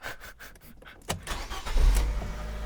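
A Fiat Panda with a newly replaced clutch slave cylinder cranks briefly and its engine catches, rising into a low, steady idle rumble, close and alone.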